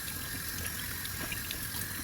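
Tap water runs steadily while collard greens are rinsed in a sink, a quiet, even hiss and trickle with no talking.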